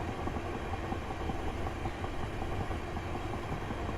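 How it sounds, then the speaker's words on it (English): A Class 375 electric train in Train Simulator 2018 coasting to slow down with power idled, a steady cab rumble and faint rhythmic rail clatter throughout. "So I've idled the power just to let the train slow down naturally here"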